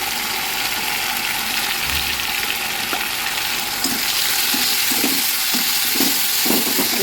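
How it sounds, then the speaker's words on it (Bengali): Spices with turmeric sizzling in hot oil as they are fried for a dried fish curry, a steady close frying hiss with faint stirring scrapes and clicks throughout, no talking. "মশলাটা একটু কষিয়ে"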